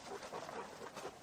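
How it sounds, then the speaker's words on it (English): Big dogs pant steadily close by, with faint whimpers mixed into the rapid breathing, fairly quiet and with no talking. "Oh, hello, big dogs."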